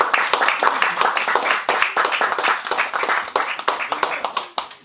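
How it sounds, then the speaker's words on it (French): A crowd applauds steadily, a dense patter of many hands clapping close by for several seconds. "On peut les applaudir."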